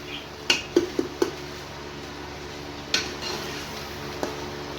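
Tomatoes being stirred and fried in a pot for beef pulao, with a few sharp spoon knocks against the metal over a quiet, low sizzle and background hum.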